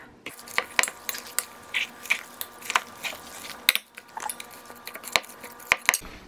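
A utensil scrapes and clicks against a bowl while mixing meatball seasonings (Italian seasoning, garlic and onion powder) into meat, giving irregular sharp taps and scrapes up close.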